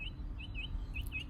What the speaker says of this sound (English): a group of birds just came to like join us